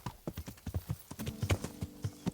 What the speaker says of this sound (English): They have a horse and everything.